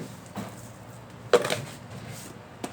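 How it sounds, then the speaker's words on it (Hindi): Green chillies with salt being ground for a chutney, heard as a few sparse, close knocks and scrapes of grinding, separated by quiet gaps, with no talking. "सबसे पहले हमने हरी मिर्चें डाली इसमें, इसको अच्छे तरीके से पीस लेंगे।"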